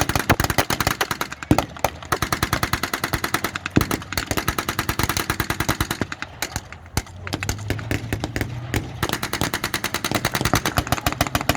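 Troops on board a Sherman tank fire in a WW2 battle re-enactment, producing fast, continuous bursts of automatic gunfire, loud and close, with brief pauses between volleys.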